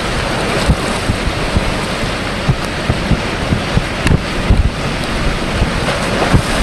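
Storm waves and gusting wind slosh steadily around a flexible floating EZ-Dock during an April 2007 storm, a loud, continuous rush of surf and wind buffeting with no voices.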